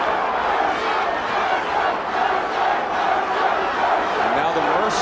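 A boxing arena crowd roars steadily in support of heavyweight Ray Mercer during his fight with Tommy Morrison, a dense, loud, continuous wall of cheering and shouting with no clear individual voices.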